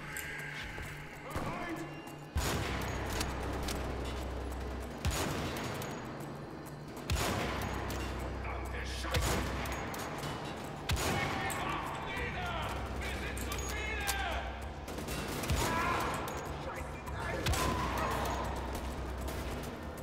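Gunfire in the first-person shooter Wolfenstein: The Old Blood: repeated loud bursts of shots and heavy booms recur every few seconds, with someone talking over much of the action.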